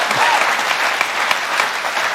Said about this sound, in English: now you can applaud all the candidates